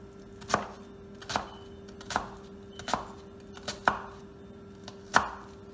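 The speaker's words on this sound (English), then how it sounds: "so our onions is chopped" Onions are chopped with a knife on a board in about seven crisp, evenly spaced chops, each a sharp close knock roughly a second apart, over a quiet steady background with no voices.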